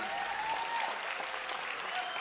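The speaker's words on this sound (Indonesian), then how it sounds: "Tepuk tangan untuk Pak Gubernur dan Pak Bupati." Outdoor crowd applauding for a provincial governor and a regent at an open-field religious gathering, a steady wash of clapping under a faint tonal line, moderately distant throughout.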